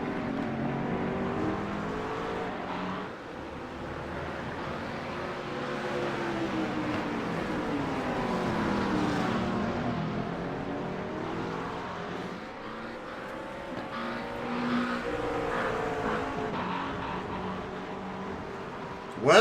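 McLaren GT3 race car at the Interlagos circuit in a racing video game, its engine droning steadily and close throughout, pitch rising and falling with revving and gear changes, with no talk over it.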